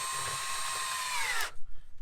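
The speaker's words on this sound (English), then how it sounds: "This is quite a bigger, chunky, heavier drill." A heavy, chunky FERREX Pro V combi power drill whines at a steady high pitch, close and loud, then winds down and cuts out abruptly partway through.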